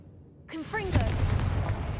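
A Confringo blasting spell from a Harry Potter video game: a short cast with a quick rising chirp gives way to a loud, rumbling explosion that stays up close and heavy to the end.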